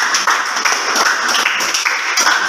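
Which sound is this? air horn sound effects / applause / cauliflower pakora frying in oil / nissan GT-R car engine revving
applause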